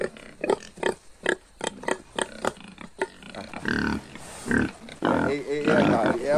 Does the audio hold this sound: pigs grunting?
yes